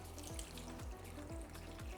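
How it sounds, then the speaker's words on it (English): Ice water poured onto thinly sliced celery, a soft continuous splashing pour, quiet and steady for about two seconds. "Now, to this, we add some ice water."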